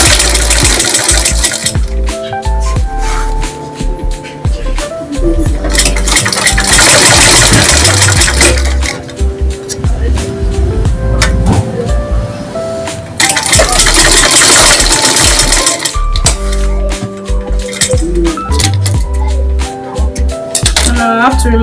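A sewing machine stitches fabric along a chalk line in loud, fast mechanical bursts that start and stop repeatedly, whirring steadily during each run.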